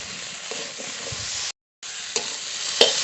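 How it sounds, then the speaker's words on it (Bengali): A ground paste of cumin, poppy seed, mustard and green chili sizzles steadily in a hot pan while it is stirred, with a few scrapes and a brief dropout midway. "জিরে পোস্ত সর্ষে কাঁচা লঙ্কা বাটা কাঁচা লঙ্কা দিয়ে এটা রান্না করতে হবে এবার একসঙ্গে ভালো করে ভেজে নেবো"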